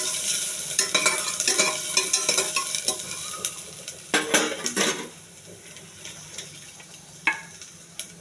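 Green chillies and peeled garlic fry in a pan, with a soft sizzle under repeated sharp scrapes and clinks of a spoon stirring against the metal. Clusters of scraping come in irregular bursts, heavier early on and sparser toward the end.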